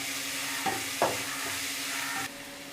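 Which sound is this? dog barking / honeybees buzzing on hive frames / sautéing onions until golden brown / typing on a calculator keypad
sautéing onions until golden brown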